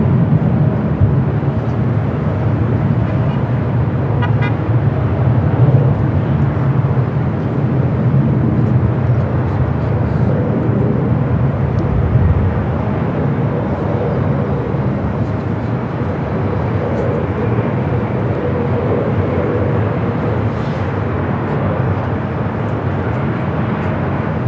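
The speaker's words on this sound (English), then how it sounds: "A380 Super on the downwind leg" An Airbus A380 airliner flies around Los Angeles LAX airport, its jet engines a distant, steady low roar that continues under the background noise throughout.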